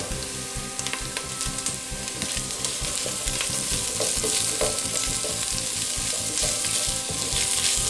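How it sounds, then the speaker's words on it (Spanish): Corn kernels fry with golden garlic in a pan for a huitlacoche dish, giving a dense, steady sizzle and crackle that grows fuller after the kernels drop in, with occasional stirring scrapes, close up and without speech. "Después de un minuto que el ajo empieza a soltar su aroma y empieza a tomar un ligero tono dorado, le agregamos los elotes."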